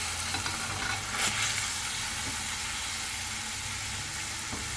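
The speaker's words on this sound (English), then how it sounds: "I've got the onions in there cooking" Onions fry in a pot with a steady, even sizzle and hiss, close and continuous, with a faint low hum underneath.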